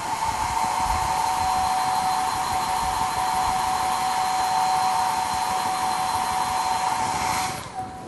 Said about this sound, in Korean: 이게 드라이기로 충분히 말려주시면